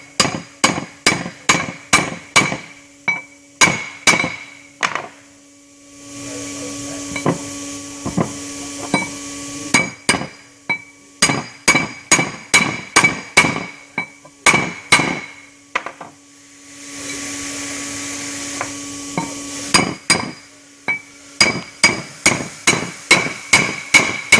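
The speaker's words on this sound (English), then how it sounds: "Now what we're going to use is a brass punch, so we don't put any burrs on the dowels." A hammer strikes a brass punch to drive dowels into an engine flywheel, sharp metallic taps in quick bursts of several blows separated by pauses, with a brief hiss of air in two gaps, close and loud.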